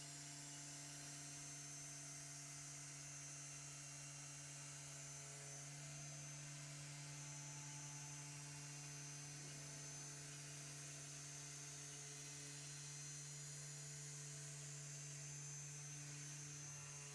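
Polishing machine whirs steadily at a constant high pitch while correcting the paint on a 1997 Toyota Supra 15th Anniversary Edition, a continuous close motor drone with a slight shift in tone midway.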